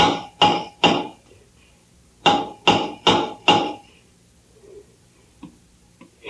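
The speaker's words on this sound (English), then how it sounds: "Take the hammer and answer his signals." A hammer tapping signals on the inside of a submarine hull, in an old radio drama: three sharp metallic knocks, a pause, then four more in a steady rhythm, with faint taps after.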